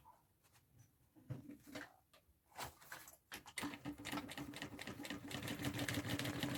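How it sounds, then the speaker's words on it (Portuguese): Sewing machine stitching the lining of a handbag: a few separate clicks and short starts, then a steady rapid whirring run that grows louder and continuous to the end, close and alone. "E agora eu vou costurar deixando a linha aparecendo no forro"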